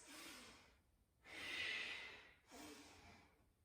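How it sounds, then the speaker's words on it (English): Deep ujjayi breathing during a seated yoga twist: three slow, close breaths with a soft throaty rasp, the middle one longest and loudest, heard alone with no talking. "deep ujjayi breaths"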